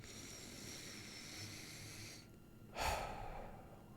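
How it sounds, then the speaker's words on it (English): A slow, breathy exhale hisses out, followed after a short pause by a single sharp, airy intake of breath, close and quiet with no talking. "Inhale deeply and exhale with a sigh to release tension in your vocal muscles"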